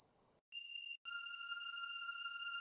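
A looped string sample with a fade, sustained high tones that restart twice after brief silent gaps, then hold as a smooth, quiet drone.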